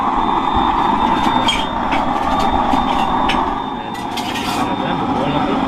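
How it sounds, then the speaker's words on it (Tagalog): A motor-driven blower runs in a small Philippine business setup, a loud continuous whir and rumble with a faint steady whine, light clinks and voices talking over it. "ito yung nagpapaandar yung Blower"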